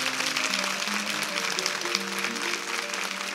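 A studio audience at a 1983 television game-show festival breaks into dense, sustained applause that holds steady and full throughout, with a faint tonal hum beneath it.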